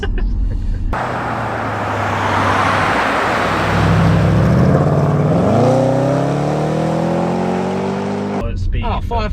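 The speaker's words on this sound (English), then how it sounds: "I can't believe going uphill that it accelerates like that" Range Rover SVR accelerating hard uphill, its engine note climbing steadily in pitch through several seconds, loud from inside the cabin, with a voice speaking briefly near the start and end.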